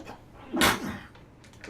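A person sneezes once, loud and close, during a tabletop wargame session, with players talking before and after it.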